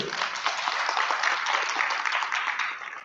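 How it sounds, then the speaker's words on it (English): At the opening of the Eurowoman 2019 global businesswomen's conference, the hall fills with a thick, even roar of applause that stays constant for a few seconds, then begins to fade. "Applause, please"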